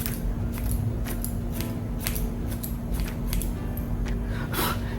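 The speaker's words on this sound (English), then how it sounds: "Sometimes I'll do a whole haircut with these thinning shears." Expensive thinning shears snip through hair during a layered ponytail haircut, giving a steady run of crisp, close metallic cuts in an irregular rhythm over a low constant hum.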